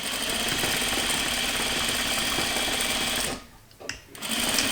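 A sewing machine runs steadily while stitching quilt blocks, a fast continuous mechanical chatter close by that briefly pauses near the end for a back stitch before resuming.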